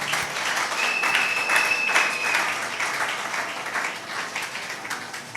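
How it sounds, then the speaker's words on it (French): A church congregation applauding during a sermon at an anniversary service, sustained dense clapping from many hands, fairly near and steady, with a faint tone briefly audible. "Est-ce qu'on peut acclamer pour la parole du Seigneur?"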